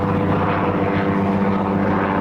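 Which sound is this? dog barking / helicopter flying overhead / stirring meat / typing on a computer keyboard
helicopter flying overhead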